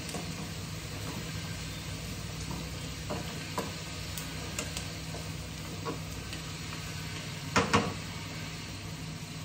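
Onions frying and browning in a pan at home, a steady low sizzle with soft stirring scrapes and scattered ticks, a brief louder clatter near the end, no voices.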